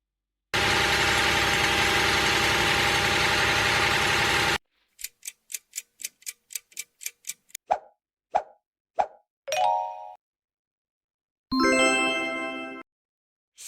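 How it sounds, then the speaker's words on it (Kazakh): A combine harvester engine drones loudly and steadily for about four seconds, then cuts off and is followed by a series of quick ticking clicks, plops and a ding, with a short bright chime near the end. "Бұл комбайн."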